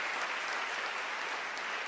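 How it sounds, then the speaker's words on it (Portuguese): A church congregation applauds at a women's conference service, with steady dense clapping filling the short stretch at an even level and no speech over it. "Pode dar um aplauso aí pela vida das nossas irmãs"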